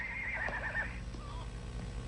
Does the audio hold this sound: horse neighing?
yes